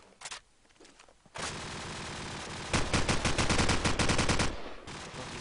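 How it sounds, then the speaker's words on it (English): Gunfire in a Counter-Strike match, first a few scattered shots, then a sustained loud burst of rapid automatic fire with sharp repeated cracks before it trails off. "Rocky's firing away."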